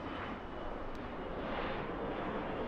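A Lufthansa Boeing 747 produces a steady, broad engine roar that stays loud and even throughout, with no voices over it.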